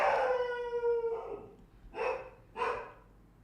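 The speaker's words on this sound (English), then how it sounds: "This dog." A dog lets out a long wavering howl, then two short sharp barks follow a moment apart, fairly close and clear with nothing else around.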